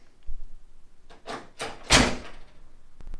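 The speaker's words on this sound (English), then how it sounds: "the same goes for when I open the door" A car door on a 1991 Trans Am opens with a few rattling, latching clunks and a broad whooshing swing, fairly close and loud, followed by a couple of faint clicks.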